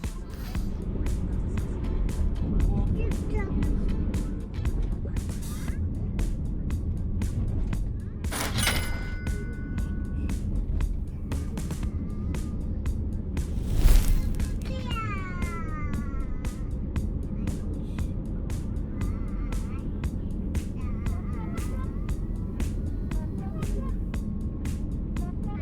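A car driving along countryside roads in Niigata, heard from inside as a low, steady rumble of engine and road noise, with a few brief clicks and rattles and a bump about midway.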